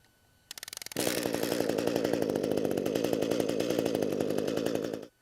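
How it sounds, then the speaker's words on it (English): An ECHO gas hedge trimmer started with a recoil pull: a few quick ratcheting pulls, then the small two-stroke engine fires and idles steadily with a loud, close buzz before cutting off. "So I simply have to pull the recoil 1 to 2 times and the unit will fire."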